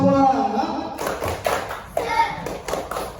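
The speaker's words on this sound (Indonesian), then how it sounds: "Oke, tepuk semangat dulu lah ya." A classroom of children clapping a cheer rhythm, sharp patterned claps and taps in short groups after a spoken lead-in, with voices chiming in.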